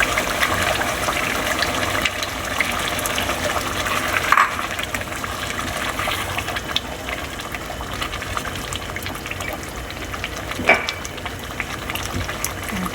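Heavy whipping cream pours into a pot of chicken makhni, making a steady, soft liquid gush with faint bubbling. It continues evenly throughout, with an occasional light clink.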